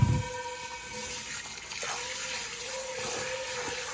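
Water runs steadily into a kitchen sink as a pot is washed, a soft continuous trickle and splash with faint clinks of the pot, no talking.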